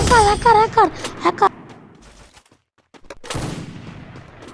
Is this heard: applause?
no